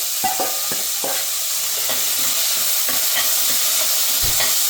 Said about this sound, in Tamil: இந்த மாதிரி நறுக்கி வச்சுட்டு அதை போட்டு வதக்க வேண்டியது